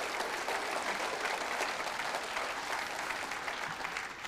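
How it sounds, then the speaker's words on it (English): An audience at a State of the City 2023 event applauds its elected leaders after a Q&A session, a steady, even rush of many hands clapping that runs unbroken throughout at moderate volume, without talk. "let's give our elected leaders a big round of applause for all those answers"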